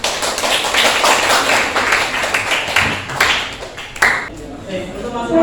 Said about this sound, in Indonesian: beri tepuk tangan dulu untuk temanmu